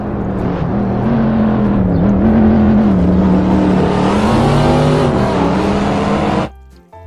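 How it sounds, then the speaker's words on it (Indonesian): A race car engine holds a loud, steady high-pitched drone with slight pitch wavering, running close and continuous before cutting off abruptly near the end. "Wow, lihat teman-teman, di sini ada mobil balap."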